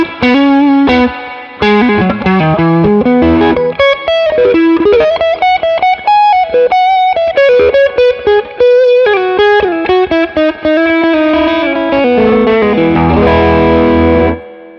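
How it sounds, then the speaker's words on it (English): A tube guitar amp on its lead channel, output tubes pushed hard, carries a loud distorted electric guitar lead, fast sustained notes and bends with saturated harmonics, played alone without talking. "We're hearing the output tubes that are being pushed really hard."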